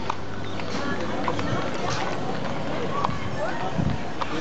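A horse being ridden clip-clops along steadily amid a busy, noisy outdoor background, with the hoofbeats fairly close and fairly faint under the surrounding din.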